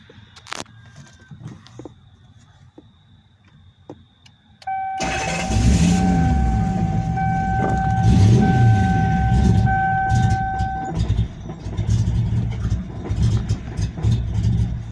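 Lexus SC400 engine with push-to-start ignition: quiet background, then the engine abruptly cranks and catches, settling into a loud, rough-running idle with uneven fluctuations close by.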